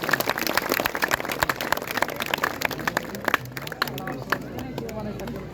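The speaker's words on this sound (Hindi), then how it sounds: "इनके लिए भरपूर तालियां होनी चाहिए।" Outdoor festival audience clapping, a dense patter of many hands with crowd murmur underneath, steady and fairly near, for a touring cyclist called to the stage at a Kashmir festival.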